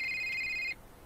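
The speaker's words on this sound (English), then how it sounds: "And then her phone rings." A phone in the video game A Short Hike rings with a bright electronic trill that cuts off abruptly after less than a second, clear and alone over a quiet background.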